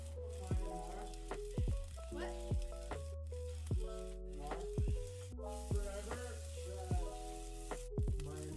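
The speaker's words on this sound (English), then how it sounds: "Adding the radish and mix them well. Let the radish cook for 1 minute or two." Radish cooks in a pan with a quiet, steady sizzle, broken by repeated spatula or spoon strokes scraping and knocking against the pan as it is stirred.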